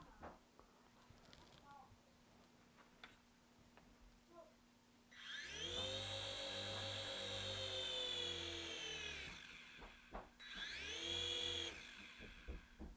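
Air Hogs Heli Replay toy helicopter spinning up into a loud, steady high-pitched whine with a buzzing motor drone, running about five seconds, cutting out briefly, then revving up again near the end.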